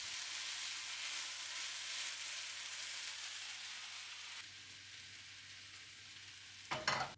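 Chicken frying in a pan until golden brown, a steady close crackling sizzle that drops slightly in level partway through, ending with a brief louder clatter, with no talking.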